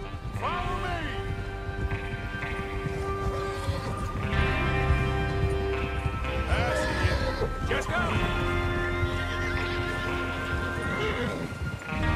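Horses neigh and whinny amid a busy in-game scene from Red Dead Redemption II, with steady hoof clip-clop and music-like tones running underneath; the whinnies rise clearly and repeat several times over a loud, continuous mix with some voices.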